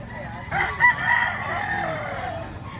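A stag rooster over a year old crows once nearby at a market in Lipa, Batangas, a loud drawn-out call rising and trailing off, with other birds and faint voices in the background.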